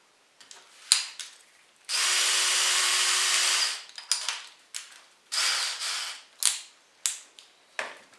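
A power drill bores through plywood in one sustained whirring burst of about two seconds, followed by shorter bursts and clicks, close and alone without talk.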